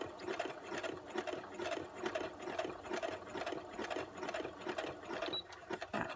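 A home sewing machine runs a zigzag stitch on a small handmade mini notebook project, a steady mechanical whir with a rhythmic ticking needle pulse, close and moderately quiet with no talking.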